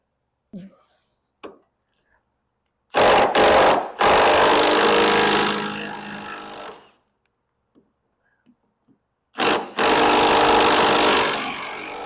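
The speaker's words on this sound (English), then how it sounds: "we have a Milwaukee, and we're gonna just zap that right out." A Milwaukee power tool zips a 15mm cab mount bolt out of a 1990 Chevy 454 SS truck in two loud whirring bursts, with a few faint clicks and handling noises between them.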